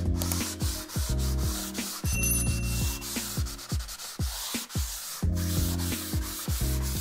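A power sander works across a ceiling in repeated rhythmic passes, its rubbing hum swelling and dipping with each stroke, loud and close with no voices.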